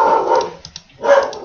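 A dog barks twice, close and loud, each bark a rough burst, with a short pause between them and no talking.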